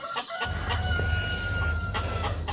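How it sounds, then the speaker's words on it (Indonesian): Farm chickens cluck in short repeated calls over a steady low hum, while a rooster's crow runs through with a drawn-out tone, all fairly close and continuous. "Joyo dan Lala semakin bersemangat kasih makan ayamnya."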